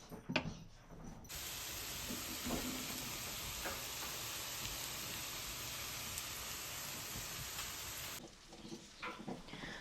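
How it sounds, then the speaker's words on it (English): Onions cooking down in a pan give off a steady, dense sizzle that runs unbroken for most of the stretch, then stops abruptly near the end and leaves quieter kitchen sounds. "So we're going to go ahead and get these onions cooked down"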